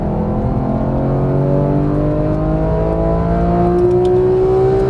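Porsche GT3 engine pulling hard on a race track, a steady loud roar with rising harmonic pitch as it accelerates, continuous and close, with no talk.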